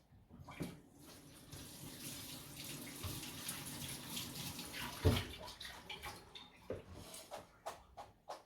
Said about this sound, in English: we need to run it under cold water